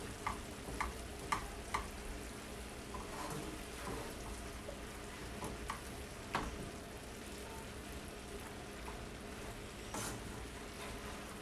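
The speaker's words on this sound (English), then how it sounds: "Give everything a good mix together." Cheeseburger sub filling stirred in a frying pan, a steady close sizzle with scattered scrapes and clinks of a utensil, no talking.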